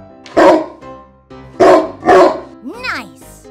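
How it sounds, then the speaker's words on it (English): A cartoon dog barks in a few loud, separate yaps, with a spoken voice and a short whistling glide in between. "Dog."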